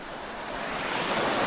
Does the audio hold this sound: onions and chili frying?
no